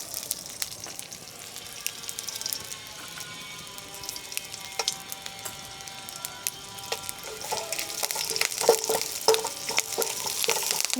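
Cumin, curry leaves and dried red chillies frying in hot oil with a crackling sizzle and sharp spattering pops that grow livelier toward the end, close and alone.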